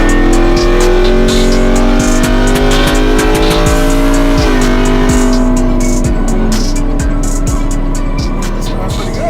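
A truck built for the 7.50 class revs hard while driving, with a loud, close engine roar climbing and falling through the gears. Sharp tire and mechanical noises punctuate the steady drone.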